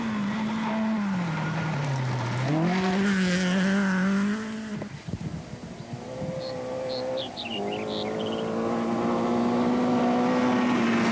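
Nissan rally cars tear along a gravel road at the 1985 Acropolis Rally, engines rising and dropping through gear changes with one passing close, loud, and a quieter car following after a short lull.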